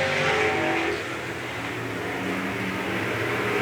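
Race cars in a heat race roar down the front straightaway at Bakersfield Speedway, a steady engine drone from a distance that swells and fades slightly as they pass.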